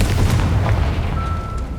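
A Confringo blasting spell erupts in the Hogwarts Legacy video game as a heavy, loud boom with a deep rumbling tail that keeps going for the whole short stretch, and no one speaks.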